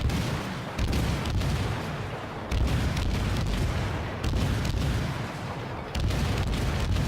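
Naval gun salvos from warships in the naval battle game World of Warships, a series of deep booming blasts spaced a second or two apart over a continuous low rumble, no talk.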